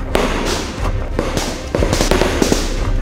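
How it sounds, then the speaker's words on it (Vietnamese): Gunfire during military training, with rapid loud bursts of shots cracking close by in an irregular stream across the whole clip, mixed with distant thuds. "Truyền lệnh, nổ súng."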